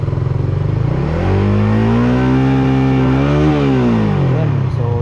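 Raider 150 FI motorcycle engine revving steadily upward toward 9500 RPM, a loud, close, continuous rising drone that climbs, holds and eases back with no talk over it.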